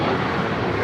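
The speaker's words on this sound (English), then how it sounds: "A380 is now rolling" Airbus A380 airliner rolling down the runway at Los Angeles International Airport, a steady, broad jet roar that stays loud and constant with no talk over it.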